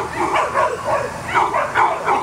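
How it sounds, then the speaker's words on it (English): Several dogs bark and yip in quick bursts at close range, the barks coming in a loose rhythm of repeated yelps with a whimpering edge, loud and unaccompanied by speech. "That'd be my dogs."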